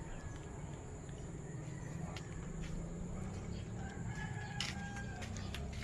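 Chickens and a rooster in a backyard coop, clucking and calling faintly under steady background noise, with a sustained outdoor hum throughout.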